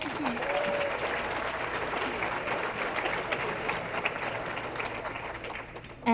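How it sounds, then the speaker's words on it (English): A high school sports banquet crowd claps for a coach, a dense and steady round of applause at moderate distance that carries on without a break, with a few voices faintly audible beneath it. "Round of applause for Coach Woods."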